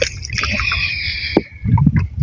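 A rowing boat glides through flooded swamp forest water at Ratargul in Sylhet, with soft splashing and knocking close by under a thin, sustained tonal background.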